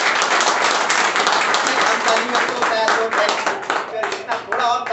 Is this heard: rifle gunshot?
no